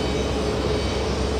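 Jet airliners at JFK airport, a Delta jet and a KLM 787, give a steady, loud, broadband engine roar that holds evenly through the brief moment with no break.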